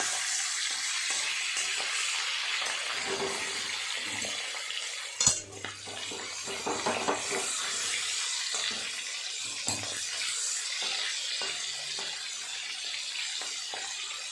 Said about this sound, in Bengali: মাছগুলো হয়ে গেছে ওই পিঠটা উল্টে উল্টো পিঠটাও ভাজা করে নেবে